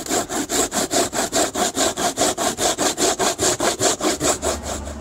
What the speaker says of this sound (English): So we'll be grating the coconut.